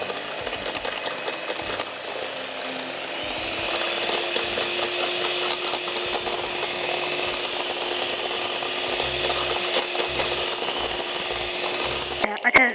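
Electric beater whipping egg whites in a clean, grease-free bowl, a steady whirring buzz with scraping rubs that runs continuously and fairly loud for the whole stretch, no talk over it.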